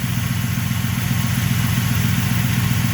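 Ford Panther-platform car engine idling close up, quiet, a steady low rhythmic throb with faint clatter, unchanging throughout.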